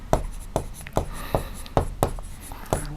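Chalk or marker strokes on a board in a maths lesson, a steady run of about seven crisp taps and scrapes roughly every half second, close and clear with no talking.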